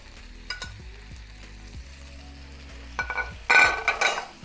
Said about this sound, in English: I'm just going to put this fat right here in the pan. Let it melt.